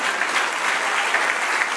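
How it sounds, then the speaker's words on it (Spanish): Congregation in a church service claps steadily, a dense, even patter of many hands at moderate distance, continuing without break and with no speech over it. "Dale un aplauso al Señor."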